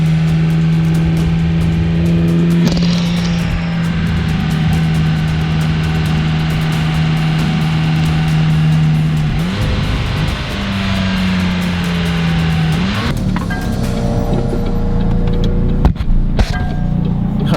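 A supercar engine drones loudly and steadily, with pitch shifts as it pulls hard between gears, then wind rush and rattles toward the end; no talking.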